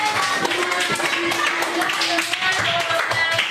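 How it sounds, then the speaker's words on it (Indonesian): Schoolchildren clapping in a classroom, a quick, uneven burst of hand claps close by with some tapping, lasting a few seconds as the group applauds their classmates. "Beri tepuk tangan untuk mereka semua"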